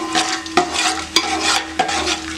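Whole spices (cinnamon, cardamom, cloves, star anise, bay leaves) crackle and sizzle steadily in hot oil and ghee for a biryani, with a few sharp spoon strikes against the pot as they are stirred; no talking.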